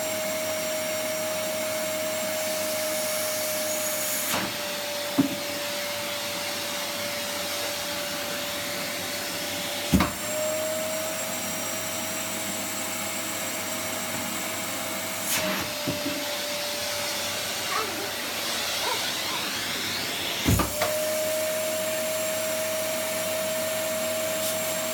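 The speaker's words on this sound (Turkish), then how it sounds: "Ve bakalım Asya elektrikli süpürgeyle sepetin içine kaç dakikada atacak?" A vacuum cleaner runs steadily throughout, its motor a constant whine punctuated by sharp thuds and clacks as small colored plastic balls are sucked up and knocked about; no voices.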